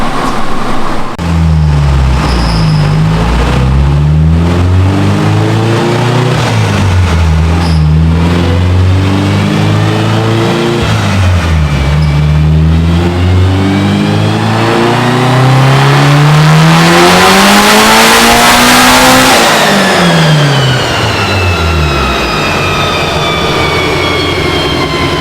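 Mitsubishi Evo engine revving hard through repeated rising and falling pulls, loud and close, ending with a high sweeping rev climb, with no talking.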